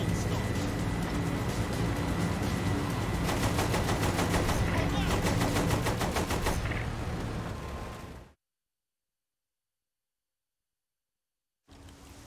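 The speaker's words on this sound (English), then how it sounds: "Use the machine gun then, not the cannon." Machine gun fire in the video game Saints Row: The Third, a loud, continuous rapid rattle with rumbling blasts and game noise for about eight seconds, then sudden silence before sound resumes briefly.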